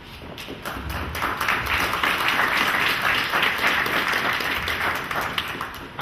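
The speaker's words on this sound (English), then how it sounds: "I think we should give her another round of applause." An audience at a community event in Hartford breaks into sustained applause, a steady, dense patter of many hands clapping at even loudness for several seconds.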